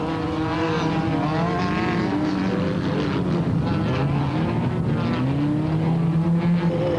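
A racing super truck with a turbocharged Volvo engine roars loudly and continuously, its pitch rising and falling as it blasts past on a short straight during a 1998 Super Series race.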